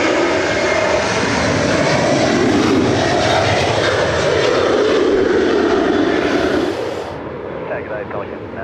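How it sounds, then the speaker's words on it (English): Finnair jet airliner landing at Sydney Airport, a loud sustained engine roar close by that holds steady for about seven seconds before easing slightly as it passes. "Fantastic sound there out of the Finnair."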